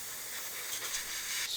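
Cleaning fluid sprays out of an airbrush in a sustained hiss with a few brief surges in strength, heard up close and alone.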